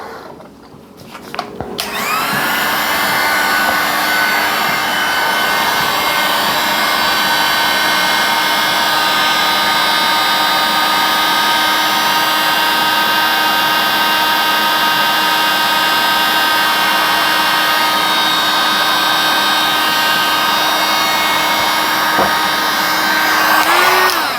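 A hair dryer runs steadily to dry watercolor paint on a bookmark. It starts after a brief click and then blows as a loud, constant whir with a high whine, close and uninterrupted.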